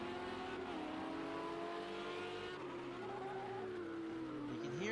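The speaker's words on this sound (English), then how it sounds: "You can hear him use that engine" A GT3 race car in a racing game at Le Mans, driven in the wet, holds a steady engine drone that shifts pitch through braking zones, with a faint whine rising near the end, continuous and fairly quiet, no talk.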